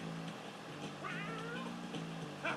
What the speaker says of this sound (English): Don't pull that kitty's tail.